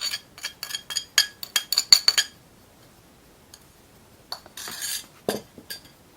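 A metal spoon clinks and scrapes against a bowl in quick bursts while stirring cocoa into cake batter, the taps coming close and bright, pausing, then resuming with a few scraping strokes.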